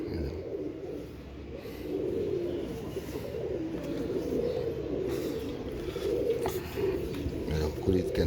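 Aseel pigeons with golden-yellow feathers cooing in a loft, a low steady murmur of coos running throughout, close and moderately loud.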